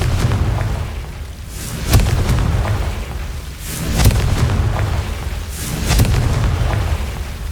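Confringo blasting-spell explosions in the video game Hogwarts Legacy boom loudly three times about two seconds apart, each a heavy burst over a constant rumbling game soundscape.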